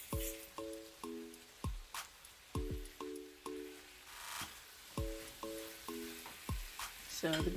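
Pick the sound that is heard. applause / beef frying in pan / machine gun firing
beef frying in pan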